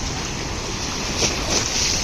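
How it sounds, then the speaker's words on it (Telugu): Fast-moving river floodwater surging at high speed, a loud, steady broadband rush with swells of spray, heard close with no voices. "గంటకు ఒక డెబ్బై కిలోమీటర్ల వేగంతో ఈ నీళ్ళు కదులుతుంటాయి"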